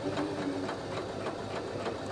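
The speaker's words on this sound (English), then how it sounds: "So when I'm sewing, I tend to not be looking at the actual needle." Steady close whir of a sewing machine stitching a French seam joining an apron's front and back, with a fast even needle rhythm throughout.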